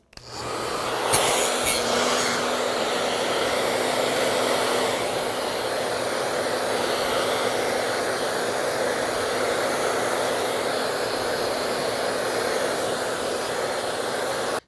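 A hair dryer blow-dries freshly cut hair, a loud continuous whooshing roar that starts abruptly and runs steadily close by.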